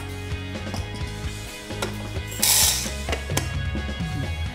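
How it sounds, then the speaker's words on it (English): Coffee grinder grinding 48 grams of coffee beans, a steady close mechanical whir with rhythmic gear-like chatter and a brief brighter burst midway, running alone throughout. "Let that wait and we'll grind our coffee."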